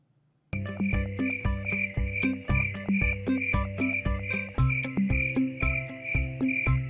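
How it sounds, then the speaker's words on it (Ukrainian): A cricket chirps loudly and close, in repeated rhythmic bursts after a brief silence, with a faint pulsing beat beneath. "Цвіркун."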